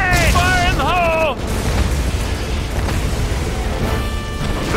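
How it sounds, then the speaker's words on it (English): Grenade blast in the WWII strategy game Codename: Panzers Phase Two, a dense rumbling burst that follows shouted voice lines and lingers as a loud, noisy roar. "Grenade! Fire in the hole!"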